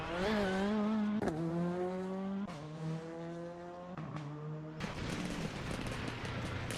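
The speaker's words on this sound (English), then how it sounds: "we have Daniel leaving the road a little bit as he returns to the tarmac from that short gravel section" A rally car races along a stage at Rally Pačejov, returning from a short gravel section to tarmac, its engine screaming close and loud with rising revs, quick gear changes, and a rough burst of noise near the end.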